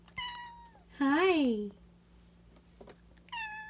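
A house cat meows three times indoors, a short call, then a louder, drawn-out rising-and-falling meow, then a final brief call, with someone speaking a short greeting nearby and a steady low hum in the background.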